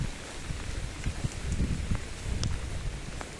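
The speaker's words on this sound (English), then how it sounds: "Look how bad it's raining, man." Steady rain patters down in Littleborough with scattered heavier drops and a soft background hiss, fairly close and continuous throughout.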